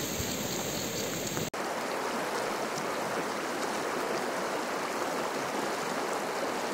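Heavy rain falls in the mountains of Naryn near Kel-Suu, a dense, steady hiss that stays loud throughout after a brief cut near the start.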